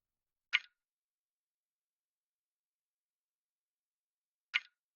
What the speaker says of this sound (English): Then we have another percussion which is going on.